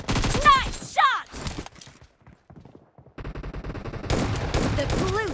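Gunfire from a mobile shooter video game played on a OnePlus Nord CE in Santorini crackles in loud bursts alongside game music and voices. The shots are dense at the start, drop away midway, then return at the end.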